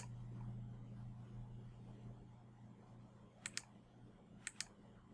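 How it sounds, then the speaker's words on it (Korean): Computer mouse clicks while working in PTC Creo: two quick pairs of sharp, close clicks over a quiet steady hum, with no talk. "오른쪽 마우스 클릭을 한번 해봅니다."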